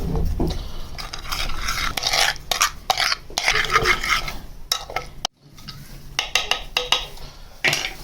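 Soy sauce, oil, yogurt and spices being mixed in a bowl with a spoon, repeated wet scraping and clinking strokes in uneven bursts, close and without talk.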